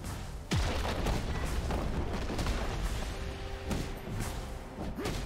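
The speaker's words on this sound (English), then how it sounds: "Red team's turret has been destroyed." Heavy booming explosions and impacts from a League of Legends match, a deep thump marking a destroyed turret followed by continuing crashes and battle effects at steady loudness.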